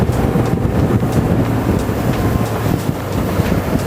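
A big outboard motor on a redfish fishing boat near Pointe a la Hache, Louisiana runs steadily under heavy wind buffeting the microphone, a constant low drone with gusty rumble and no voices.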